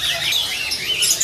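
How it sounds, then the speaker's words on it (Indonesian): Pied myna calling at a busy bird market, a single caged bird close by, its chattering high chirps running continuously over market noise. "Ini ada jalak suren blorok ekstrim."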